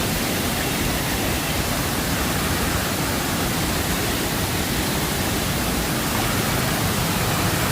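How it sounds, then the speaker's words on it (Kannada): A waterfall in Coorg roars as a dense, unbroken wash of rushing water, loud and close, with no other sounds standing out. "ಅಲ್ಲಿಂದ ನೀರು ಬಿಟ್ಟು ಇದೊಂದು ಫಾಲ್ಸ್, ಮೇಲ್ಗಡೆ ಒಂದು ಫಾಲ್ಸು, ಈ ಎರಡನೇ ಫಾಲ್ಸು"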